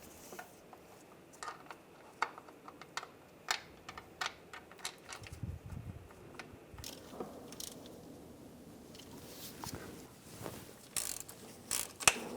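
A ratchet turns bolts on the axle locker actuator of a 2011-2018 Ram 1500 with a 3.6L V6. Faint, scattered ratcheting clicks and metallic taps come in irregular short bursts over a quiet garage background.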